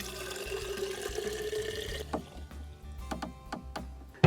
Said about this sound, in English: It makes it really easy to dispense the water.